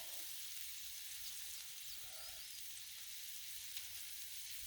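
Shrimp frying in ghee on a Blackstone griddle, a steady close sizzle that holds even and unbroken throughout with no talking.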